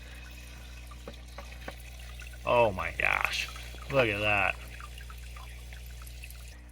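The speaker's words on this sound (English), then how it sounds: "I plugged that air stone in just now so I can kind of move the water around a little bit" An air stone in a plant cloner bubbles and churns the water in a constant, gentle trickle that stays low and close, while a person talks briefly over it.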